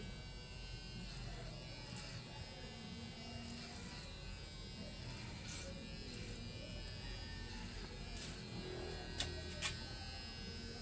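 Electric hair clippers buzz steadily while cutting a man's hair at home, a continuous close hum running the whole time with faint scattered clicks and a voice talking quietly in the background.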